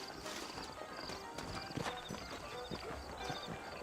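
Horses' hooves clip-clopping steadily in the Red Dead Redemption game, a low, busy patter of hoofbeats with faint background voices and ambience.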